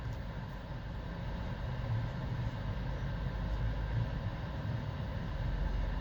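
A 2015 Mitsubishi Outlander Sport engine idles roughly, a steady low rumble with slight uneven wavering and no talk, close and moderately loud throughout.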